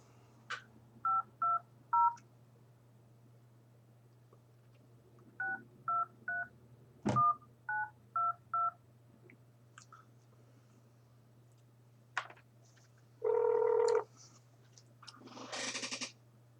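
A telephone number is dialed on a keypad, with short bursts of DTMF tones in quick groups of two or three over a steady low hum, followed by a longer tone and a faint noisy burst.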